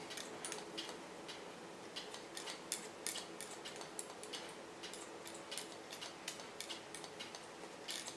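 Scissors snip repeatedly through hair during an asymmetric haircut, a quick crisp series of close, light clicks with no talking.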